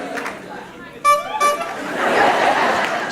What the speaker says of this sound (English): you give us a honk